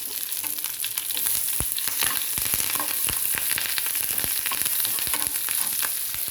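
Dry red chillies and curry leaves crackling in hot oil as a tempering, a steady sizzle dotted with sharp pops and spits, close and fairly loud, with no voices.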